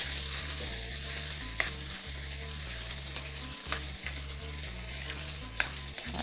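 Diced tomatoes and tomato sauce sizzle softly in a pan as they are stirred, with a low, even frying hiss and a few brief scraping knocks.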